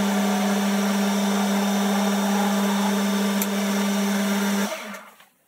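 A steady lathe motor whine with a strong hum runs for several seconds as a large centre drill bores steel, then winds down and stops near the end.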